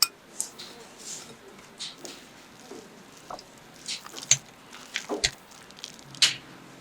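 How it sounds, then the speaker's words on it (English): Mozzarella and cream cheese filling being stirred in a bowl for chicken rolls, with soft, sparse scrapes and a few sharp clinks of utensil against the bowl, quiet and close, with no talking. "Mix the filling."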